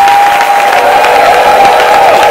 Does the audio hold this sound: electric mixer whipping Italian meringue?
no